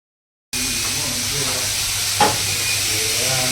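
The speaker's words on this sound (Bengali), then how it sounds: "আলু ভাজা ভাজা হচ্ছে" Potatoes frying in a pan for a breakfast of panta bhat, a steady close hiss and sizzle that starts abruptly and runs unbroken, with a brief louder crackle partway through and no voices.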